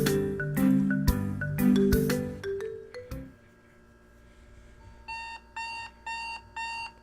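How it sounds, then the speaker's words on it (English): An alarm clock in the visual novel game Doki Doki Literature Club, played through a mod, rings out in loud repeated electronic beeps, first a dense burst of ringing tones, then after a quiet gap, evenly spaced pulsed beeping. "Never understood why people have alarms like that. They're so annoying."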